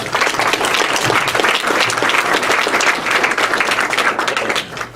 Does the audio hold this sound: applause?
yes